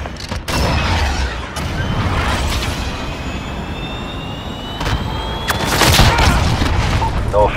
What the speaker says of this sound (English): Cruise missile ready to launch. This is Falcon 3-0. Cruise missile away.